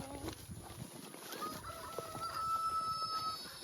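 Chickens clucking inside a coop during egg collection, with low scattered fowl calls and a faint rooster-like crow near the middle, set against steady background noise; no talk.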